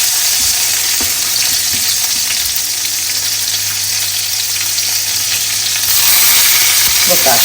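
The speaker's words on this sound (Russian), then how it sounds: "котлеты обратно в сковородку." Homemade beef burger patties sizzle loudly in an oiled frying pan with a dense, continuous crackle, as the patties are set back into the pan with a few soft knocks and the sizzle swells near the end.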